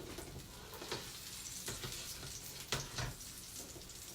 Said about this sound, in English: you can see they're sizzling away over here